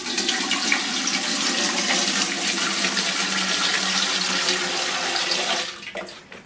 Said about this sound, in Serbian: Evo sad ćemo nasuti još ovaj lonac vode.